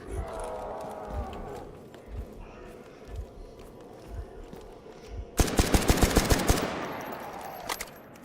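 Video game gunfire aimed at an enemy: quieter thumps and shuffling give way to a loud rapid burst of automatic shots, close and harsh, then fading, with voices in the background.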